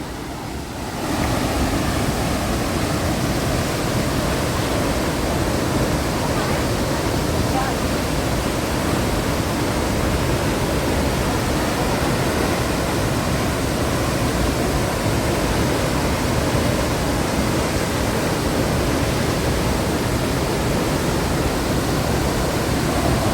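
Jonha Falls, the highest waterfall in Jharkhand, thunders as a steady, loud roar of rushing water, close and continuous from the start with no pause.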